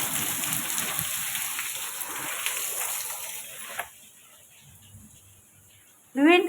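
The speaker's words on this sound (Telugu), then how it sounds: "ఆయన చెప్పినట్టే చూడు, వర్షం ఉరుములు మెరుపులతో వర్షం ఎట్టబడుతుంది." Steady rain pours down hard during a thunderstorm, a dense hiss that cuts off abruptly partway through and leaves near silence before a voice briefly breaks in at the end.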